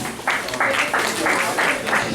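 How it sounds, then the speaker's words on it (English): Comedy-club audience at a cannabis club comedy night claps in several short bursts, a crisp rhythmic patter of hands from a modest crowd. "Clap if you're in a relationship."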